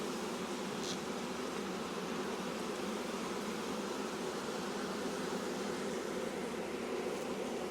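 Honey bees in an opened hive, agitated after being disturbed, drone in a steady, dense buzz that fills the whole stretch without a break.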